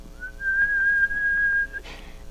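A single long, shrill human whistle held at one steady pitch for well over a second, loud and close, then cut off by a brief noisy rustle; it works as a signal to accomplices waiting outside a house at night.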